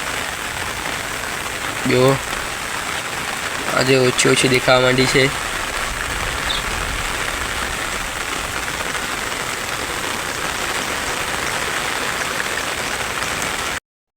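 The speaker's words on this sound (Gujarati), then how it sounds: "કાલનો વરસાદ ચાલુ જ છે, સતત ચાલુ છે." Rain falls continuously in a soft, even hiss over a field near a well, while someone speaks briefly early on.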